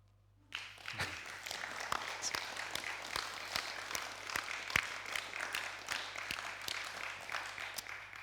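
Audience applause following a speech, a dense, sustained wash of clapping that starts abruptly and carries on steadily with scattered sharper claps.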